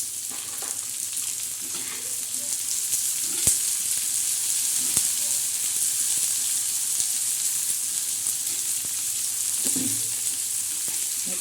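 Onion frying on a hot griddle gives a steady, bright sizzle that holds throughout, with a few sharp pops and faint stirring clatter underneath.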